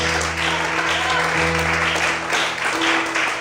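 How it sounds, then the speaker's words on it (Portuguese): A church congregation keeps up clapping over held keyboard chords, a steady dense patter that stays loud for the whole stretch. "Mais forte as palmas."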